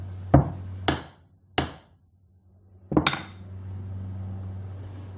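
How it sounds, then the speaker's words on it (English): Carbide lumps wrapped in a rag are smacked with a hammer, four sharp, thudding blows with pauses between, the last followed by a brief crunching clatter, close and alone. "And we give it a few good smacks with a hammer."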